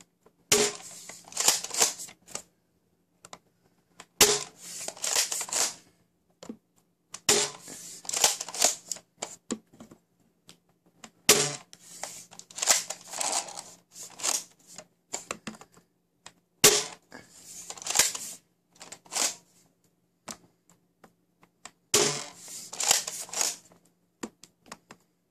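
An X-Shot Hyper Gel Clutch blaster shooting gel balls into a chronograph indoors, heard as about six separate bursts of sharp, rapid mechanical clicks and snaps, each followed by a short quiet pause.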